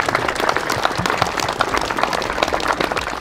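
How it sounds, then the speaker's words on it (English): A crowd at a Jaguar car show at Gaydon's British Motor Museum applauds, steady crisp clapping from many people heard outdoors, moderately loud and continuous throughout. "we should give a big round of applause"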